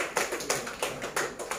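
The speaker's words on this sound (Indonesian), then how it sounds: "tepuk tangan" A primary school class claps for a group presentation with sharp, evenly spaced claps in a quick, steady rhythm. The claps are moderately close and carry no talk.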